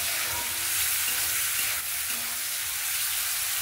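Marinated chicken pieces frying in hot oil for mixed fried rice, a steady close sizzle with faint stirring clinks, continuous and alone without voices.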